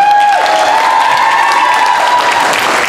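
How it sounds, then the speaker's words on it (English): Audience applause fills a high school talent showcase, steady loud clapping from a crowd throughout, with a sustained tone from the sound system ringing over it. "Round of applause for"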